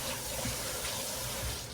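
Cold tap water runs steadily into a kitchen sink while cooking bowls and utensils are rinsed, a continuous, close, rushing splash with no voices over it.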